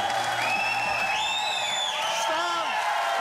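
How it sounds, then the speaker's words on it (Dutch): A big crowd in London cheering loudly and continuously, with whoops and shrill whistles rising above the roar. "u hoort het publiek is hartstikke gek"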